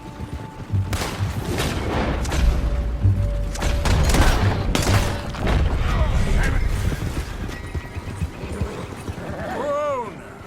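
Sharp gunshots crack from rifles and revolvers in a Red Dead Redemption 2 standoff with United States Army soldiers, firing in rapid, irregular volleys amid clattering and shouting voices, then thinning out toward the end.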